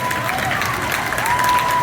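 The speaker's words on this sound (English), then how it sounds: "you can clap for her" Brief clapping and light cheering from a concert audience, close and fairly steady, with a faint sustained tone and murmuring voices underneath.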